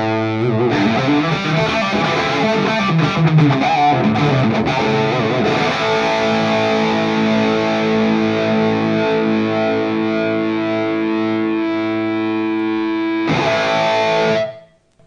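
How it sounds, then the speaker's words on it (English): A loud, heavily distorted electric guitar at full volume through a vintage Marshall amp plays a gritty riff, then holds a long sustained chord that rings and buzzes before cutting off abruptly. "then bringing the guitar volume all the way up, you get the full-on kind of sound"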